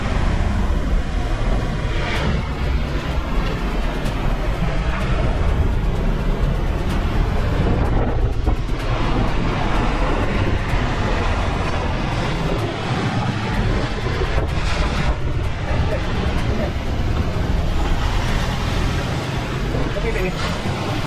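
Gale-force winds of Typhoon Ragasa sweep through Guangdong: a loud, continuous broadband roar with gusting surges, with voices audible beneath it throughout.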